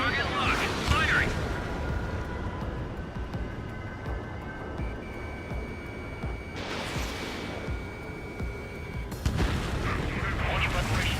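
In the flight combat game Ace Combat 7, heavy weapons fire and booming explosions rumble over a steady jet drone while radio voices talk throughout, with sharper blasts at about the middle and again near the end.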